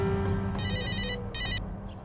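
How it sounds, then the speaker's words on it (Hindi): An incoming-call phone ringtone sounds in two bursts of a bright electronic melody, the second after a short pause, over a low background hum. "अरे किसका फोन आ गया?"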